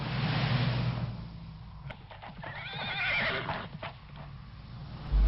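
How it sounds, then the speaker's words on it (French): A horse in a French animated adventure episode gives a loud, wavering whinny over the clatter of hooves, near and prominent, with quiet stretches around it. "Courez, cher cheval."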